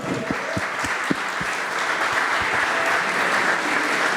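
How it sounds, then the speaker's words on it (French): A crowd at an NFT meetup in France applauds steadily, a thick continuous patter of clapping that fills the room, with a few louder individual claps near the start. "Et on peut l'applaudir, c'est une star."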